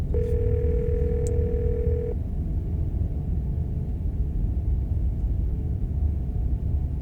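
A steady telephone dial tone in the game Scarlet Hollow sounds for about two seconds over a low rumbling background, then stops, leaving only the rumble.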